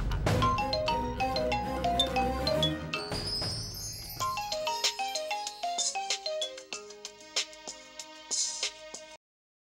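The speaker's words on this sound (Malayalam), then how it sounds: "ഫോൺ ബെല്ലടിക്കുന്നു." Phone ringtone playing a bright melodic jingle of quick chiming notes, moderately loud and alone, repeating for several seconds before stopping abruptly.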